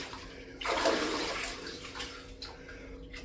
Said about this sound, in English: Then I always try to end with a splash.